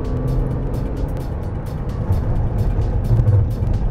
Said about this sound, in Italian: E adesso la frenata, proviamola dai 120, una frenata quindi assolutamente normale.